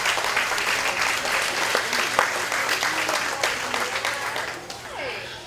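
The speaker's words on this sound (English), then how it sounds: "these exhibitors out here should be commended with a nice round of applause" Sustained applause from a crowd honoring exhibitors at a county fair hog show, steady clapping filling the whole stretch with a slight fade near the end.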